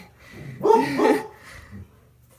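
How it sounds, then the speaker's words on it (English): A pet dog indoors gives a couple of quick, moderately loud barks close by, followed by a softer trailing yip. "I'm sorry, that's my dog."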